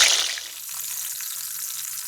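Quail pieces frying in oil give off a bright crackling sizzle that bursts loudly at first, then settles into a softer steady frying hiss with faint low clinks, and no one speaks.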